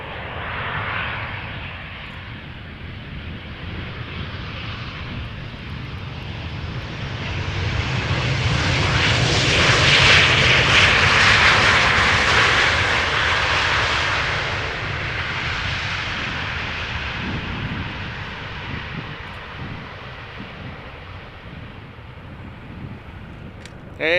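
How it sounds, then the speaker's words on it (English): A Transavia Boeing 737-800 arriving at Amsterdam Schiphol Airport, a broad jet roar that swells to a peak mid-way and then eases off, heard outdoors at moderate distance with no talking. "This is Transavia flight 6332 737-800 arriving from Valencia."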